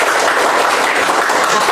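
Grade 4 schoolchildren clap together in a classroom, loud and dense, with steady applause filling the whole short moment.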